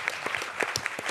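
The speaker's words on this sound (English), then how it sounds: "we can have a huge round of applause for my amazing producers, Hazy Mills" Short, close burst of scattered clapping from a panel audience at a Reel Diversity event, applauding the producers, with individual hand claps distinct and uneven in rhythm.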